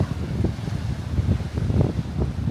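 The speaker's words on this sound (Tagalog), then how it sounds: "Oh, mahangin guys." Gusty seaside wind buffets the microphone beside the water at the Cirkewwa ferry and bus terminal in Malta, a steady low rumble with rising and falling surges and no voices.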